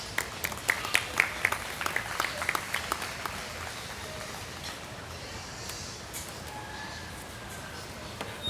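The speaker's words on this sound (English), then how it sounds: "I think these young kids need a nice round of applause for bringing a nice set of goats to us" A county fair audience applauds young 4-H and FFA meat goat exhibitors, with scattered claps that start out crisp and then thin into a softer patter against the hum of the show barn.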